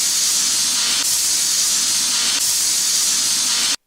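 A pressure cooker whistle releases steam in a loud, continuous hiss with no voices, cutting off abruptly at the end.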